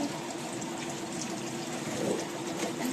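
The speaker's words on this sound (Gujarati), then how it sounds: "તો કપડાં ધોઈ નાખું" Steady running water pours and splashes continuously while clothes are washed, close by, with a constant broad wash of sound and no voices.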